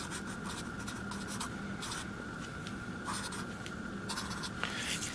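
Writing on a board during a maths lesson, a continuous scratchy stroking texture with short bursts of marks, close and alone without speech.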